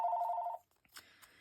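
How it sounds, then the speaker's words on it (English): A telephone rings indoors with a steady electronic bell tone lasting about half a second, followed by brief faint clicks and soft handling noise. "sorry about that phone call"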